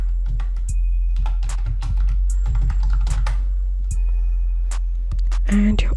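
Keys tapped on a computer keyboard in quick irregular clicks, close and distinct over a low steady hum, with a brief pause before a final flurry.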